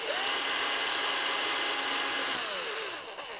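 A power drill drives a screw into small pre-drilled holes, a loud, close, steady whine that holds and then winds down as the screw seats.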